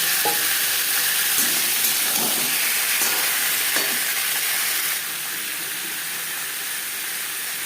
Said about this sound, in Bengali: সবার প্রথমে দিয়ে দিয়েছি এক চামচ সরষের তেল এবার দিয়ে দেবো আলু